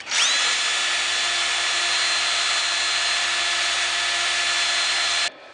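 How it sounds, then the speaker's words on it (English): A power drill runs steadily for about five seconds, boring a hole through the steel door skin of a 1967 Mustang, with a high whine held close and loud before stopping abruptly. "just make sure when you do that that you don't drill through the front side of this door skin."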